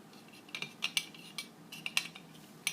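Metal and plastic parts of a tea kettle lid clicking and clattering as they are twisted apart, several sharp close taps spread irregularly over a few seconds, with no talking.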